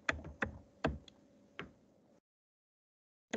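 Computer keys tapped in a short burst while a password is typed, five or six distinct clicks spaced about half a second apart, close and clear, then quiet.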